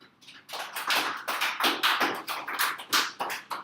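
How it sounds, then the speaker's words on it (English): A small group of seniors gives themselves a weak round of applause at a classroom session, a short burst of sparse, uneven hand claps lasting a few seconds. "Give yourself a round of applause."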